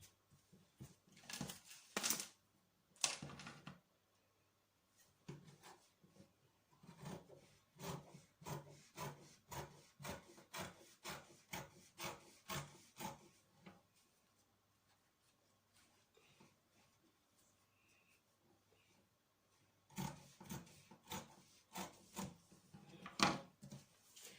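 Fabric being cut out with scissors for a traditional iro and buba, a quiet close series of rapid rhythmic snipping and rubbing strokes in bursts, with a pause midway and no talking.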